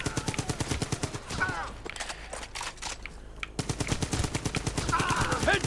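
Automatic gunfire in the mobile war shooter Brothers in Arms 3 rattles in fast, steady bursts, close and loud, with a brief lull in the middle before the firing resumes.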